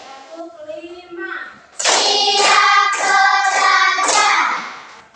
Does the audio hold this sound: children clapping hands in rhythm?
yes